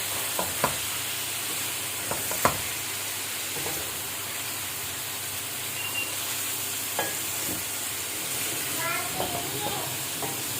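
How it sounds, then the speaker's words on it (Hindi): Steady sizzling of garlic and ginger frying in a pot over high flame for chicken qorma, with occasional spoon knocks and scrapes and a brief voice under the hiss. "फ्लेम हमने थोड़ी हाई कर दी है, जल्दी से ये भुनें।"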